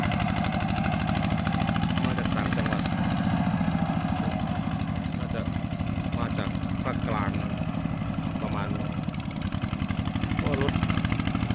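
A steady, rumbling Kubota tractor diesel engine drones continuously nearby with a rattling mechanical chug as it harrows a rice field, with faint voices underneath.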